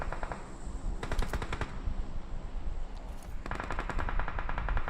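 Automatic gunfire in the mobile battle royale game PUBG Mobile during a North America pro league final, loud rapid bursts of shots in two main volleys, close and dense.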